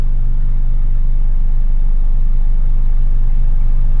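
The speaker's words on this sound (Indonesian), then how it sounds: "Mesinnya sangat halus, bahkan tidak terdengar." A 2016 Mercedes-Benz E250 sedan idles with a steady, smooth low hum that holds constant and close, with no revving and no voices.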